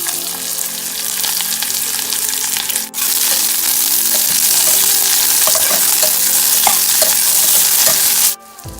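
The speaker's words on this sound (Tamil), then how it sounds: "எண்ணெய் நல்லா ஹாட் ஆகிடுச்சு. இப்போ நம்ம பட்டையையும் லவங்கத்தையும் ஆட் பண்ணிக்கலாம். அடுத்து நம்ம வெங்காயத்தை ஆட் பண்ணிக்கலாம்." Onions stirred into hot oil with cinnamon and cloves for chicken thokku, a loud steady sizzle and crackle of frying with scraping stirs, two brief drops in sound, no voices.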